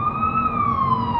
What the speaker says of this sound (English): That's a SWAT van.